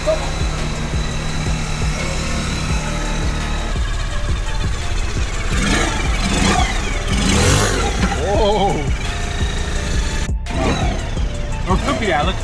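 Vespa LX 50 scooter with a Malossi big bore kit running close by, its engine revving up and down steadily while people talk over it.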